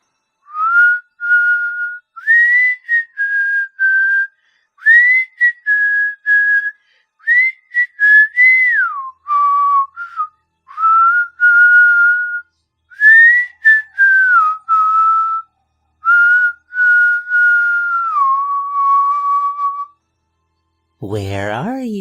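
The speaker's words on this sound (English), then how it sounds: "He whistled." A man whistles a slow tune in clear, sliding phrases with short breaks, close and alone, ending in a brief rough noise.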